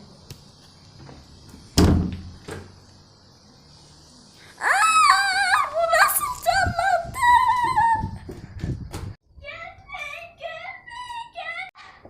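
A door opens with a sharp bang in Poppy Playtime, a single loud hit followed by a fading rattle, then a person speaks over a quiet background.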